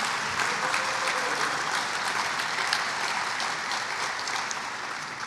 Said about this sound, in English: So how about a round of applause for our students and sponsors?